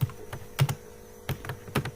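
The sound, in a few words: typing code on a computer keyboard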